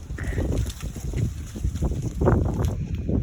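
Gusty wind buffets the microphone in uneven low rumbles, a rough outdoor blustering with faint background noise, in the video game Dinosaur Island.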